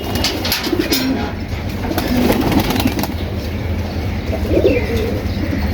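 Several pigeons cooing in low, soft repeated calls close by, over a steady background murmur with occasional chirps.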